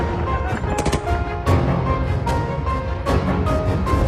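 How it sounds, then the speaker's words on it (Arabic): Gunfire during armed clashes in the Syrian coastal region, with dense, loud, repeated bursts and sharp reports running continuously through the clip amid rumbling background noise. "إطلاق نار وتعزيزات عسكرية."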